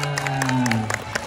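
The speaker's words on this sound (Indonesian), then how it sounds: "Boleh tepuk tangan" Children and an audience clap in a rhythmic burst at a children's early-education event in Banten, with a voice sustaining tones over the steady clapping throughout.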